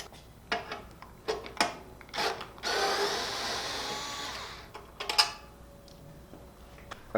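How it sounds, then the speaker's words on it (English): Power screwdriver backing out top screws on an Indian Springfield Dark Horse motorcycle, with several short whirring bursts around one longer sustained buzz in a quiet workspace. "I will probably use a power screwdriver also because I'm lazy"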